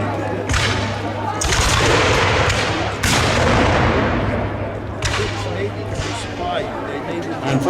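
Musket volleys crack out in several loud, overlapping bursts during a 2016 reenactment of the Battle of Guilford Courthouse, with a company firing together and shouting voices mixed in around the reports.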